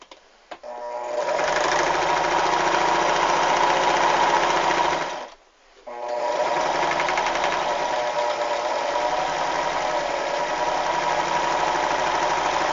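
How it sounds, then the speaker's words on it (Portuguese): A sewing machine stitches fabric for a cloth doll, running steadily and loud at close range with one brief pause before carrying on. "Hora da máquina de costura novamente."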